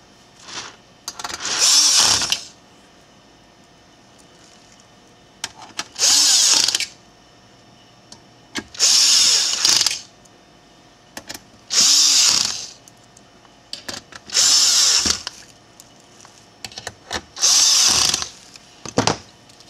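Power drill driving six screws back into a repaired FBT-1212OTEAR unit: seven short, loud, whirring bursts, each one to two seconds long, separated by quiet pauses and close by.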